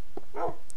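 Wolves in the Minecraft video game give a couple of short game-sound barks and yips, a brief yelp near the start and a thin high squeak near the end, close and clear with no talking.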